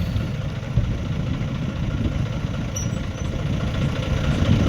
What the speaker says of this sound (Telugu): ట్రాక్టర్ చిన్న బండి ఉంది కదా